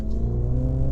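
Engine of a 2017 Mini Cooper S John Cooper Works with a B48 motor and a switchable louder exhaust: a brief, steady, deep droning hum heard close up.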